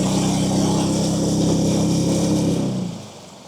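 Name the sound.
Macgregor 26M sailboat motor running, not full throttle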